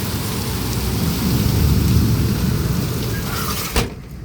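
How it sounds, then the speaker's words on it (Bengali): Heavy cyclone rain pours down steadily with a deep rolling rumble of thunder underneath, ending in a sharp crack before it suddenly cuts off. "এইরকম যদি ঝড় বৃষ্টি হয় মানুষে কি করে বেরোবে, কাজ করবে?"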